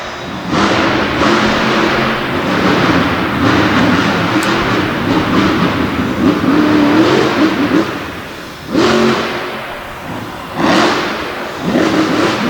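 A monster truck with a freshly rebuilt transmission roars through a freestyle run at a Du Quoin, Illinois motorsport show. The loud engine drones steadily, then dips and surges back in several revving bursts.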